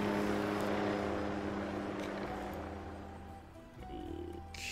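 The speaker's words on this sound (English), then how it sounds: "I got a helicopter." Helicopter rotor drone in the video game Cooking Simulator, a steady low thrumming that holds loud and then dips slightly before swelling again near the end.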